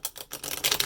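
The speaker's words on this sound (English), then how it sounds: "I'm going to shuffle the deck" A deck of cards is shuffled once, close by, in a quick papery riffle of rapid flutters that builds over about a second.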